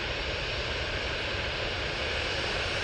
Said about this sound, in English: Oh, Ryanair sneaking in front there, the TUI Dreamliner